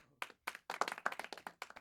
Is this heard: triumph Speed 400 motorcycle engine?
no